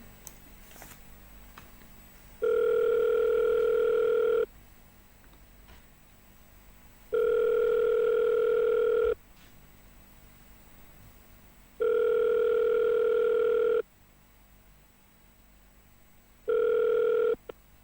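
A telephone ringback tone heard while redialing a cold call, four long steady tone bursts of about two seconds each separated by silent gaps, clear and alone, with faint line noise between rings.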